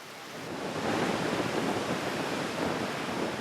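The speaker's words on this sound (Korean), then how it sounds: "한쪽에서는 남태평양의 거센 파도 소리를" Strong South Pacific ocean waves roar continuously in a broad, rushing wash of surf that swells slightly, loud and unbroken, with no voices, on a narrow island of Tuvalu.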